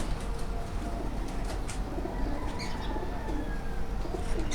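Breeder pigeons coo steadily in a home loft, soft repeated calls layered over a constant rumbling background hum, with a few brighter chirps rising above it throughout.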